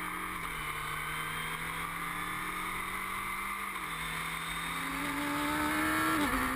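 Race cars powered by a 2-liter Ford EcoBoost engine and a Suzuki Hayabusa engine drone steadily around a circuit, with a sustained engine tone that shifts pitch at gear changes and grows slightly louder toward the end.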